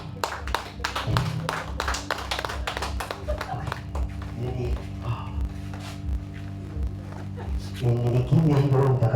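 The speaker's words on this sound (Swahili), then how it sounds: "So pigieni Yesu makofi." A church congregation clapping for Jesus at a healing service, with bursts of rhythmic hand claps mixed with voices and a background hum, growing louder near the end.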